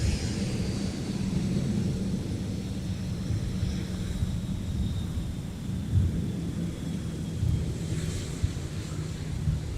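A Delta airliner takes off from runway 30 left, giving a broad, steady roar with deep low-end rumble that holds throughout, heard from a distance with wind buffeting the microphone.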